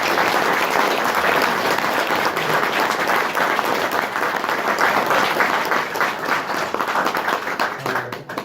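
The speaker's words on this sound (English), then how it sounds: "Let's give them all a big round of applause." Big round of applause from the crowd at a voters forum for Princeton City Council candidates, dense and loud clapping holding steady for several seconds before tapering at the end.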